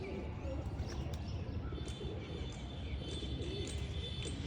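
Pigeons coo softly at a rooftop loft, with brief chirps and rustling over a low background rumble, fairly faint and close, while a voice talks in the background.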